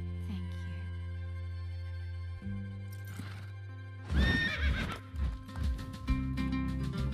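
A cartoon horse whinnies loudly over a steady music bed, followed by a run of clip-clopping hooves close by, with no talk over it.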